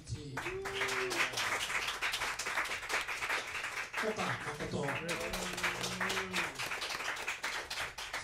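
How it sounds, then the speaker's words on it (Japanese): Applause from a jazz club audience at a quintet show in Yokohama, a busy patter of hand claps running the whole time under a voice speaking over it. "本当に素晴らしい問題で、大きな拍手をお願いします。"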